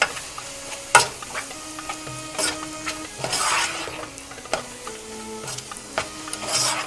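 A mashed eggplant kebab mixture seasoned with salt and black pepper cooks in a pan, frying with a close sizzle while a spoon stirs and knocks against the pan in irregular scrapes and clacks.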